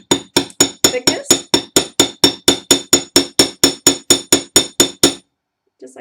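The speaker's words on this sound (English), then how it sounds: "And you'll hammer it to about half of the" A hammer strikes wire to flatten it for jewelry making, about twenty sharp metallic blows in a steady, even rhythm, close and loud, then stopping.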